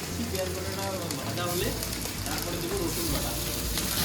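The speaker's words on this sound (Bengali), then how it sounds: "এখানে পেঁয়াজটা দিচ্ছি পেঁয়াজ বাটাটা" Onion paste hits broiler chicken frying in a pan, giving a steady close sizzle and hiss while a person talks over it.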